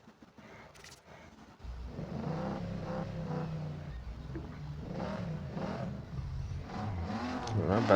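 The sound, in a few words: race cars accelerating at race start in Need for Speed No Limits video game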